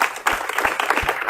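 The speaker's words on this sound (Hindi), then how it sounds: "जोरदार तालियां" Brief, loud applause from an audience at a motivational event, a short dense patter of clapping with a few sharper claps standing out.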